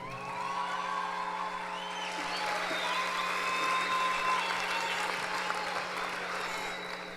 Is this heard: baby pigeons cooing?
no